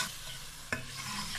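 Cauliflower and potato curry with spices, a stock cube and tomatoes fries steadily in a pan over low heat, with one clear scrape of a spoon partway through the hiss.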